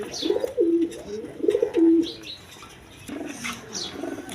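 A pair of red Gorra pigeons, a male and a female, coo in two clear rolling phrases close by, followed by quieter chirps and rustling.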